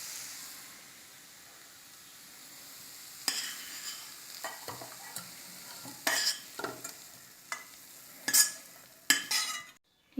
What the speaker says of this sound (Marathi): आता गॅस बंद करूया आणि ही भाजी आपण एका बाउलमध्ये काढून घेऊया.